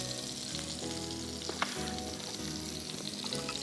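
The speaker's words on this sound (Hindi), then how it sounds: "ऑयल डालने के बाद हम इसमें डालेंगे साबुत गरम मसाला थोड़ा सा" Whole garam masala spices sizzle steadily in hot oil in a home kitchen for Mumbai-style cooking, a continuous loud frying crackle with a brief sharp pop midway and no talk.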